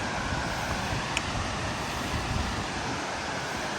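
Tak Yai waterfall in Phetchabun, Thailand, in a bamboo forest: a steady, loud broadband roar of falling water, continuous and close, with no voices over it.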